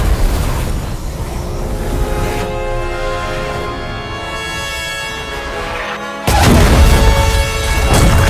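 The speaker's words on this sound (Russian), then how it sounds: "в конце предстоит сделать финальный выстрел и посмотреть на эпичную сцену взрыва" A helicopter explodes during a chase in The Matrix Awakens: a heavy rumbling blast and lingering resonant tones, then a second loud burst of crashing roar near the end, with no speech.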